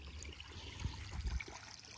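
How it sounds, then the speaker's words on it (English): A faint, steady trickle of water runs into a backyard pond, a soft continuous wash with a few slightly louder splashes near the middle. "we keep a trickle going here into the pond"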